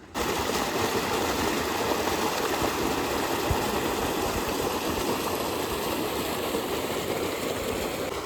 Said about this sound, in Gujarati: અહીંથી પાણી આવે છે, મોટર ચાલુ છે ને પાછળ કૂવો છે.